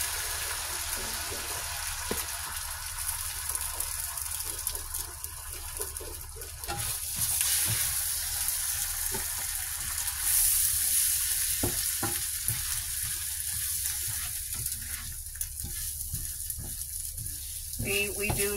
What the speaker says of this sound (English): now I'm turning the grill down because it's hot. I got three eggs in here,